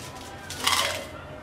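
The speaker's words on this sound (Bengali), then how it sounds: "চুলায় একটা প্যানে দিয়ে দিচ্ছি 5টা আস্ত শুকনা মরিচ" Five whole dried red chilies drop into a pan on the stove, making one short rattling clink at mid volume that fades within a second, with nothing else heard.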